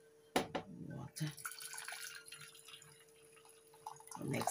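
Water running and dripping from a kitchen tap while cooking Thai dry noodles, with brief splashes and trickles, near and fairly quiet, amid faint kitchen handling sounds.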